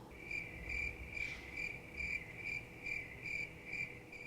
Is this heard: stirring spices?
no